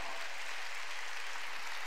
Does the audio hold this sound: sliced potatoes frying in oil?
no